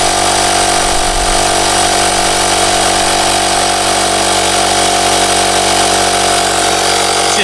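An Oasser P3 portable air compressor inflating a dry-rotted car tire with a slow leak, a loud, steady mechanical buzz and hum that runs unbroken from start to finish, close up, with no talking.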